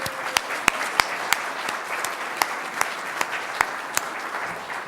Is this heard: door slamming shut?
no